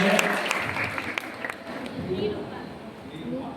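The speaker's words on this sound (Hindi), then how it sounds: "निरूपा के लिए जोरदार तालियां।" Audience applause at a quiz contest, a moderate patter of clapping under a murmur of chatter that gradually thins out.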